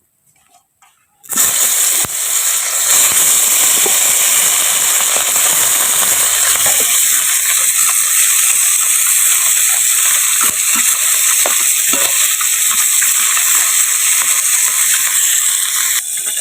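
Small puti fish fry in hot oil in a pan, starting with a sudden loud hiss that settles into a steady, close sizzle lasting throughout.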